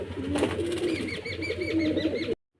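A mated pair of domestic pigeons coos repeatedly in soft, rolling throaty calls close by, with a brief burst of wing flapping near the start before the sound cuts off abruptly.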